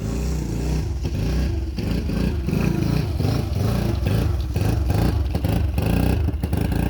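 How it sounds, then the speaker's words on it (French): A quad (ATV) engine runs loud and close, a rough steady rumble that rises and falls with revving throughout, with no voices. "Super le quad"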